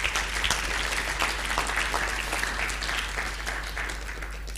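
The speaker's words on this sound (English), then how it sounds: "Round of applause for them." A room full of attendees at Mercy Corps AgriFin's annual learning event applauds in dense, steady clapping that fades slightly toward the end, with a low hum beneath and almost no talk.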